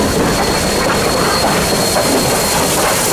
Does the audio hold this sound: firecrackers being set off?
no